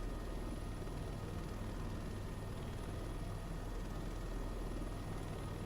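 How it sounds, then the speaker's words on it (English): Steady, loud helicopter engine and rotor drone from Microsoft Flight Simulator 2024, a constant broadband roar with a faint high whine and no speech over it. "Tower, this is a helicopter."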